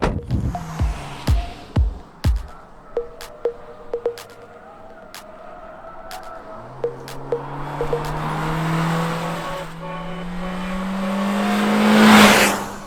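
A Toyota Corolla Cross with the naturally aspirated 2.0 Dynamic Force engine is driven, with a string of sharp knocks at first, then a steady engine hum that rises in pitch, ending in a louder rushing swell.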